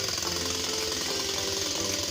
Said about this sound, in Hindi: यहाँ पे खुदाई चल रही है